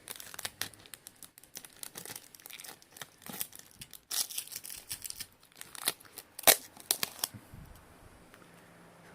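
Scotch tape being handled and cut while making a cheap airsoft grenade launcher, giving close, crinkly crackles and tearing rasps in quick irregular bursts, with a sharper snap near the end.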